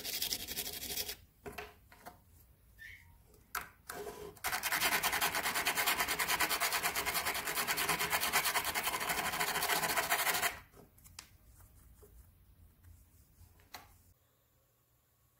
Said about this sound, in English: So we're just sanding down the back bit that's sharp to make it a bit smooth